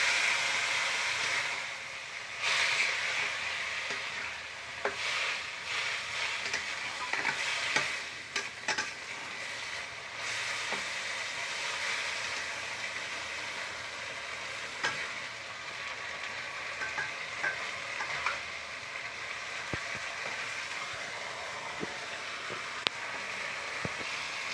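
Spices and banana stem (thor) frying and being stirred in a pan with a little water, a steady close sizzle and hiss with scraping stir strokes and occasional clinks throughout, no talking.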